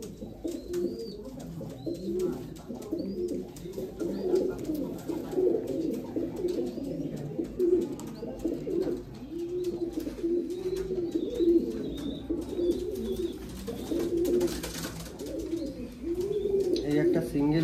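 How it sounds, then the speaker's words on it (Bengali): Royal Teddy pigeons coo over and over in low, throaty, rolling calls, with a few faint chirps mixed in. Someone talks at times under the steady cooing. "এই একটা সিঙ্গেল নর আছে দেখো, খুব দারুণ দারুণ পায়রা"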